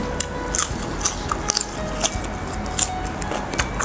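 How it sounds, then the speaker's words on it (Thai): Sticky rice eaten with a Lao eggplant dip, close-up crunchy bites and chewing sounds repeating in short bursts over a quiet background, with no talking. "กินข้าวเหนียวกับซุปมะเขือ"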